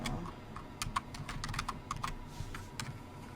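Typing on a computer keyboard while coding an HTML page: a quick run of sharp, close key clicks in short bursts and uneven rhythm over a faint background hum, with no voice.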